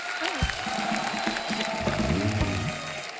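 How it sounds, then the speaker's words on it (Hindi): Studio audience applause on The Kapil Sharma Show, a steady wash of clapping running beneath a sustained musical tone and sliding notes, moderately loud throughout. "जोरदार तालियां एक बार सुनील भाई के लिए"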